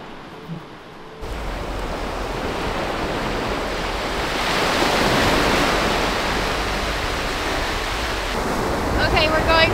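Surf rolls onto a beach in a continuous near roar of breaking waves, swelling and easing over about ten seconds, with some wind buffeting the microphone.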